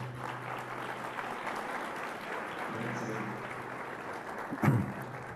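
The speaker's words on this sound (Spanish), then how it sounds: "con las imágenes del profesor Bruni, así lo saludamos con un aplauso" A crowd applauds steadily, a dense wash of clapping that holds for several seconds, with a brief louder bump near the end.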